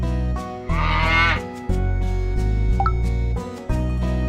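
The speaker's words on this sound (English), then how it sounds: "This is a cow." A cow moos among farm animals, a few drawn-out, loud calls alternating with a steady tonal melody and no speech.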